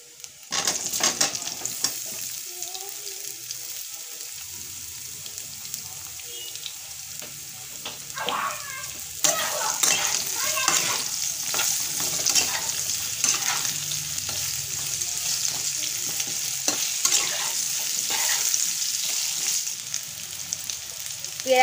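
Guava pieces for a pickle fry and crackle in a hot pan, with repeated scraping stirs over a constant sizzle, close and fairly loud with no talking.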